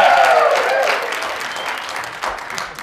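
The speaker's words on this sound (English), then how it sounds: "It's not often you get a big round of applause for Kansas" Big round of audience applause for a mention of Kansas, loudest at the start and slowly thinning out, with dense clapping from a live crowd and some murmuring voices mixed in.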